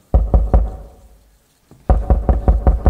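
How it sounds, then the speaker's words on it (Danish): Knocking on the door of a police chief's house in a radio play: three loud raps, a pause of over a second, then a longer run of firm, evenly spaced knocks, with no voices. "Kort før aftensmaden banker det på døren hos politimesteren."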